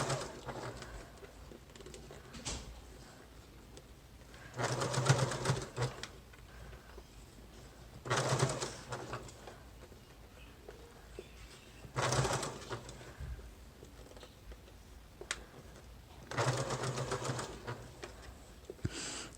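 A sewing machine runs long stitches through thick fabric for a gathered pillow sham, with four separate bursts of quiet, rapid stitching set apart by pauses of a few seconds.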